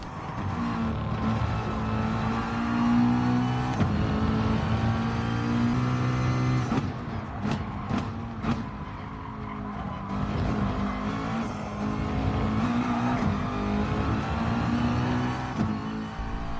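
A McLaren race car in Gran Turismo Sport at Suzuka, its engine roaring steadily at high revs through a lap, with brief gear-shift dips and tire noise in the middle, loud and continuous.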